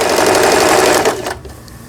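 An Elna 318 household sewing machine, its hollow body resonating, runs with a loud, rapid mechanical clatter for over a second before stopping abruptly, leaving a quiet hum.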